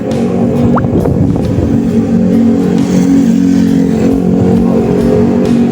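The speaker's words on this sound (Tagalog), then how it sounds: "Dumaan pang motor." A motorcycle passing close by on a road, a loud continuous engine drone that holds steady for several seconds with a rough, throbbing tone. No voices.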